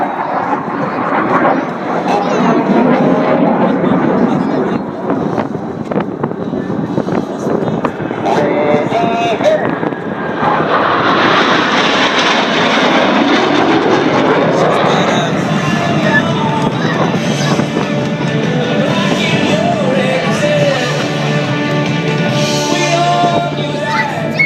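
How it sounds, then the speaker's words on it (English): Blue Angels jets flying a Diamond aileron roll at a 2012 air show, all four aircraft rolling together; a loud, sustained roar of jet engines rises and swells with wind buffeting, with crowd noise and voices underneath. "on a signal from Captain McWhirter, all 4 pilots will simultaneously roll their aircraft 360 degrees"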